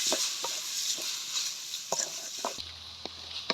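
Tomatoes with ginger garlic paste and green chilli sautéing in a pan for mutton gravy, giving a continuous sizzle broken by sharp spoon scrapes and taps at irregular intervals.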